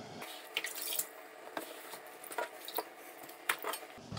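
Water drips and small metallic clinks sound faintly while a knife is being sharpened on a wet whetstone, scattered irregular taps and trickles close by, with no voices.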